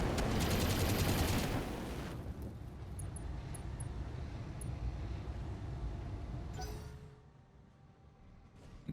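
Rapid mech machine-gun bursts in the BattleTech game, dense and loud for the first two seconds, then continuing as a steadier rattling barrage with mechanical clanks before fading near the end.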